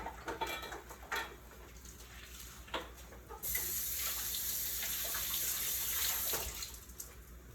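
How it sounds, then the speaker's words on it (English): A kitchen tap gushes steadily for a few seconds as a knife is rinsed under the running water, preceded and followed by light clinks of cutlery and utensils nearby. "Wash my knife off here."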